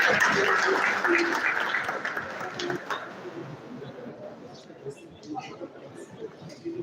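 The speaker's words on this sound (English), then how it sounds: "Please give him a round of applause." Audience applause at a university environmental sustainability event, a fairly full burst of clapping that gradually thins and fades over a few seconds, giving way to scattered claps and faint room murmur.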